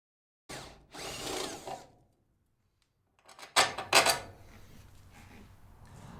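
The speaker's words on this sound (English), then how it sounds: "I'm using a stepper drill bit for opening up the holes on the side." A power drill with a step bit whines through two short bursts, pausing between them, then a louder grinding run as the bit opens holes in a van's metal side, close up.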